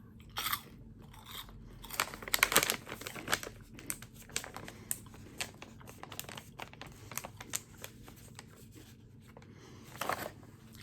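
Spicy keto cheese puffs crunch loudly up close in bursts of chewing and biting, louder crunches early then softer mastication with a final crunch near the end, no talking.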